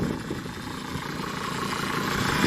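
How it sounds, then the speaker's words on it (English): An idling Mercedes T1N Sprinter van engine with a thin, steady whine from the power steering pump riding above the low rumble, growing slightly louder toward the end. "I do hear whine from the power steering pump."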